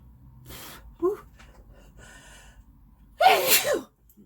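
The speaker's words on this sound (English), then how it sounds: "just a sneeze from the powder" A single loud sneeze bursts out near the end, preceded by a short sharp inhale and some quiet rustling.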